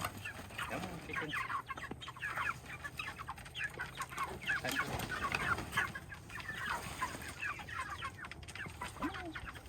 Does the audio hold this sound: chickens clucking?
yes